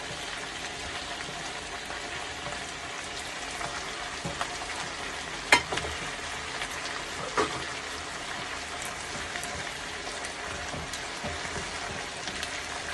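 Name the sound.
potato strips frying with pui greens on high flame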